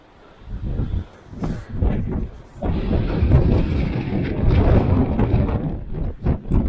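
Strong gusts of wind on a snowy mountain hiking trail on the way to Algonquin Peak, roaring and buffeting close against the microphone in loud uneven surges with no one talking.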